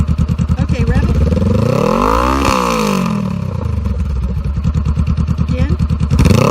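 Loud, close revving from a 2018 Honda CBR500R motorcycle fitted with a shorty slip-on exhaust, rising to a sweeping peak and falling back to a choppy idle, with people talking over it.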